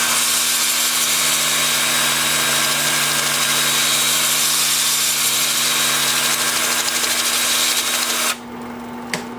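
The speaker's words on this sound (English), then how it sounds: "Now I'm going to reverse it with my drill spinning in reverse." Power drill spinning in reverse while wood turning a thin slab, a steady loud motor whine with constant hum for about eight seconds before it cuts off abruptly into quieter room noise.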